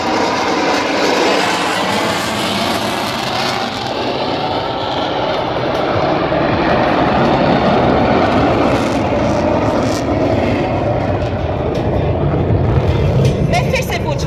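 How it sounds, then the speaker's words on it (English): Fighter aircraft performing aerobatic maneuvers at an Indian Air Force Day air show over Sukhna Lake in Chandigarh, a loud sustained jet roar that swells steadily throughout, with a commentator's voice over a public address system. "Notice as the aircraft pulls up into the sky, the pilot has made it stand on its tail and slow"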